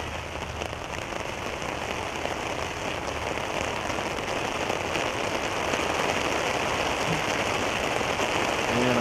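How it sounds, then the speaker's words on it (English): Steady heavy rain falling throughout an outdoor youth soccer match, a dense, continuous hiss of drops on surfaces at constant loudness with no talk heard. "I think the rain's creating quite a bit of noise here."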